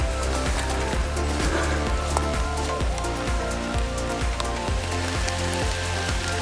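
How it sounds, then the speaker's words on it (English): Heavy rain pours down outdoors by a creek during a hunt just ahead of a cold front. A dense, steady hiss fills the whole stretch, with a low rhythmic thumping underneath. "It's pouring down the rain, as you can see"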